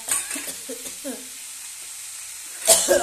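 Ground coriander, cumin and chili powder sizzle and are stirred in hot oil, a soft steady fizz with a few scraping stirs and a brighter clatter near the end.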